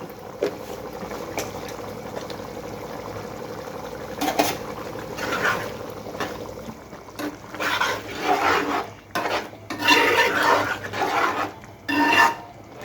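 Prawn and drumstick curry stirred in a pot after dry spice is added, a scraping, swishing spoon working through thick gravy in uneven strokes that grow louder toward the end, with brief pauses between.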